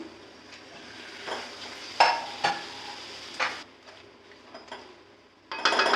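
Prawns are added to a masala in a pan and stirred, giving a quiet sizzle broken by several sharp scraping and clinking stirs against the metal, close by, with no voices.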